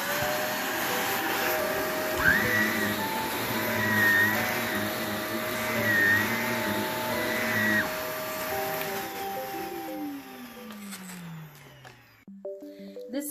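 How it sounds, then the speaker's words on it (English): A loud Shark Navigator Lift-Away bagless upright vacuum on its carpet setting drones steadily with a whirring brush roll, a cyclic rising tone repeating, then the motor winds down and stops near the end. "Now I'm going to click it on level 2, which is going to be for the carpet."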